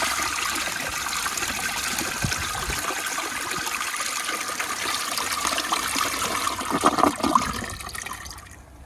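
An American Standard Space Saver Cadet toilet does a regular flush, a loud, close rush of water that roars steadily for about seven seconds, then gurgles as the bowl drains, with no voices.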